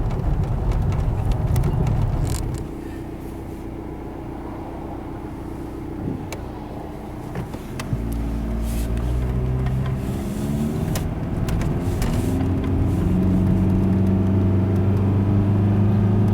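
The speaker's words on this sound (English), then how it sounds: "This is actually going to be the last driving this car ever does with this transmission in it." A car with a failing automatic transmission, the 3-4 shift gone soft, is driven from inside with a loud, steady engine drone that dips and then rises through rising tones as it shifts and accelerates, with no talking.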